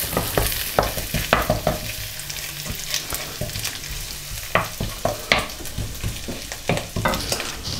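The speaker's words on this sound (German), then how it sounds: "Der Rührer ist wieder unterwegs" A kitchen machine's stirrer turns bacon in its heated bowl, producing a continuous sizzle overlaid with regular knocking clacks as the blade sweeps around, close and without voices.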